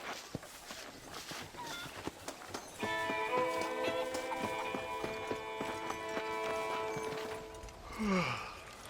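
Horse hooves clip-clop in a steady walking rhythm in the Red Dead Redemption video game, close and clear, with sustained musical tones entering midway and a short horse whinny near the end.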